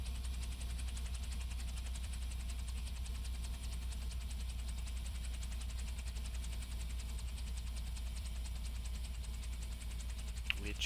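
Robinson R66 helicopter turbine winding down after shutdown in the VSKYLABS flight simulator, a steady low hum and drone with faint mechanical whine, continuous and even, with a small click near the end.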